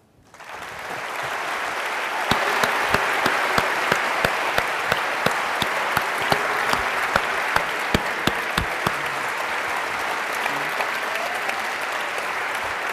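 Sustained applause from a large audience closing a New Testament debate evening between two scholars, building quickly into a steady full roar of clapping with a few sharp, close claps standing out, holding for many seconds.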